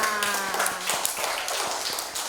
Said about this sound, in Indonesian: Tepuk tangan kalau betul semua